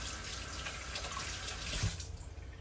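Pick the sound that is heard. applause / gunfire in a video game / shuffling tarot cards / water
water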